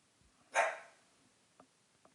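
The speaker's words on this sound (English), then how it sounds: "There goes my dog barking at nothing" A house dog gives a single loud, fairly close bark that quickly fades, followed by a couple of faint, brief noises in an otherwise quiet room.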